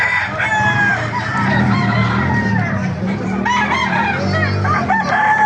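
Chickens and roosters at an outdoor animal market, several loud overlapping crows and clucks close by, repeating throughout over a busy background murmur.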